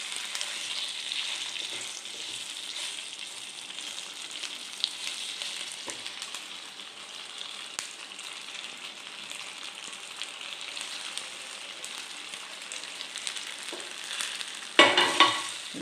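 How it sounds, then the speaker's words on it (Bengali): Moong dal pitha being stirred and mixed in a hot frying pan, a steady soft sizzle running throughout with light scraping stir sounds and a brief louder clatter near the end. "এবারে ভালো করে মিক্স করার পালা।"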